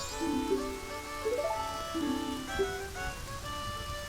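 Steady rain falling in the Zelda: Majora's Mask game, a soft continuous patter spread under melodic music, with no talking.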